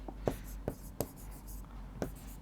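A pen writing on paper during a physics problem-solving session, producing several short, close scratchy strokes at irregular intervals over a quiet room hum.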